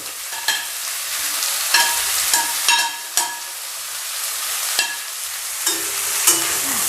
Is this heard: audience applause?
no